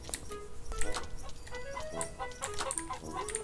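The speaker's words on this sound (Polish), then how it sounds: "Ej, słyszę kurę." Chickens cluck and cackle repeatedly in short bursts in the video game Dude Simulator 3, fairly close, over a faint steady background.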